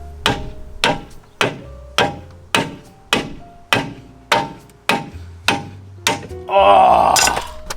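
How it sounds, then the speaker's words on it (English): A hammer strikes a crusty rear suspension part on a car about a dozen times at an even, deliberate pace, each blow loud and metallic, followed by a strained grunt. "let's see if I can even hammer this off."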